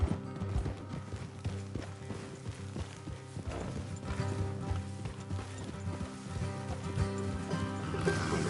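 Horse hooves clip-clop in the video game Red Dead Redemption 2, a steady trotting rhythm from several horses on a road, mixed with ambient game sound and an occasional whinny.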